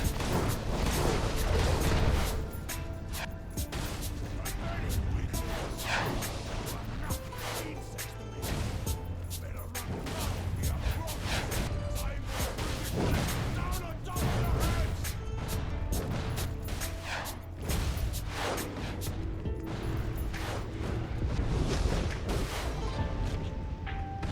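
Barrels blow up in DC Universe Online during a fight with Bane at Cape Carmine Lighthouse, a dense stream of loud booms, crashes and impacts layered over constant game effects.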